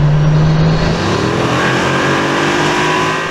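A Brabus car's engine accelerates hard on the Autobahn, a loud, steady roar that rises in pitch as it pulls, with wind and road noise close around it.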